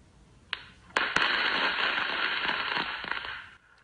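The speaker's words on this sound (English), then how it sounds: "he regrets setting off fireworks next to his pet" Fireworks go off next to a rescue dog: a couple of sharp pops, then a loud, sustained crackling and fizzing burst that lasts a few seconds and cuts off abruptly.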